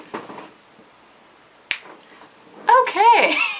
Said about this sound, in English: still can't clap. Snapping will have to do.